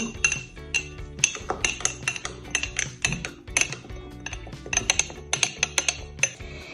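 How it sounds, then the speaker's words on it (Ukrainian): A spoon clinks and scrapes rhythmically while stirring chia pudding in a bowl or jar, a steady run of bright metallic taps close by with no talking. "Перемішуємо."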